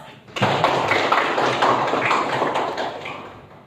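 A classroom of students breaks into applause, a dense burst of clapping that starts suddenly and carries on steadily, slowly fading toward the end.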